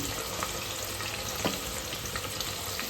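Chopped vegetables such as curry leaves, onion, potato, carrot and chilli sizzle steadily in a pan for vegetable pulao, with a continuous close frying hiss and occasional stirring scrapes, no voices.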